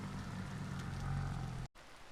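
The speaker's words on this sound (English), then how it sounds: "And now I am out bearing this rain. It is constant rain" Steady, constant rainfall in the Vintage Story video game, a dense even hiss of drops on surfaces with low rumble, unbroken until a brief dropout near the end, then resuming more quietly.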